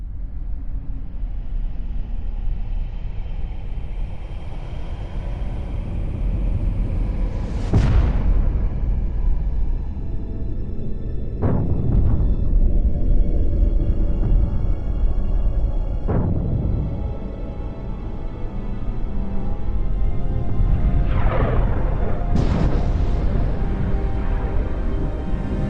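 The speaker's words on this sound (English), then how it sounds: "Big explosions to be visible from orbit." Deep, rumbling explosions in the video game Dawn of War boom one after another over a constant roar, with sharp bursts and crackling blasts scattered throughout.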